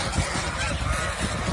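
Geese on a goose farm honk steadily in a dense, loud chorus with no pauses and no voices.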